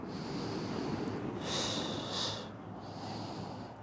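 During a postpartum Pilates workout, a person takes close, audible breaths, a soft airy exhale that swells into two stronger forceful puffs with no talking.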